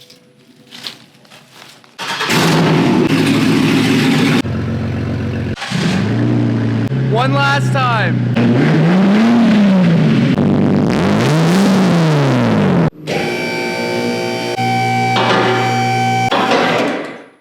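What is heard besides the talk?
car engine starting and revving with cut exhaust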